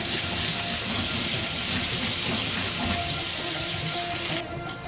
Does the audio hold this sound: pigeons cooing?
no